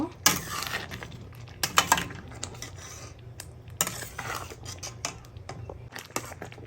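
A spoon clinks and scrapes against a pot while fish head and mung lentil dal with ghee is stirred, giving irregular metallic taps and scraping strokes, close up with no talk.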